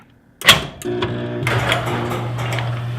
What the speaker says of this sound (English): And now I'm going to open the door.